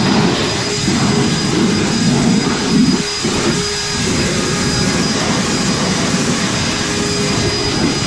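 Reconditioned Ego backpack leaf blower on high turbo setting, clearing debris off a Toro TimeMaster mower: loud, close, continuous roaring whoosh of air and fan whine, holding steady with slight dips in pitch.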